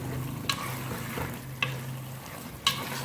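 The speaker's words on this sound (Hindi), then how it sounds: "अच्छी तरह से भूनेंगे मीडियम फ्लेम पे।" Spinach and mutton fry together over a medium flame with a soft, even sizzle, broken by three sharp scraping stirs.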